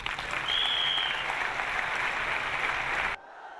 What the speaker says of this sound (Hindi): हमारी वाइफ के लिए जोरदार तालियां हो।